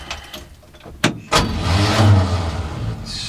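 A starter cranks the engine of an old Chevrolet C10 truck left parked for ten years, with a couple of sharp clunks followed by a sustained, loud grinding crank that drags on without the engine catching.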